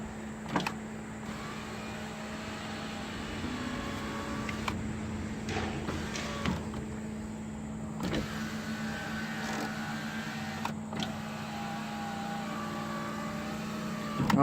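A power window motor runs inside a 2008 Honda Accord door, a steady low electric whine hum held for the whole stretch with a few faint clicks and bumps over it, fairly quiet and with no talking.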